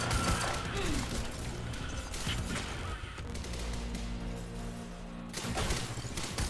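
Gunfire in the Quantum Break video game: fairly faint, scattered bursts of shots from somewhere behind the player, mixed with a low, rumbling game soundscape.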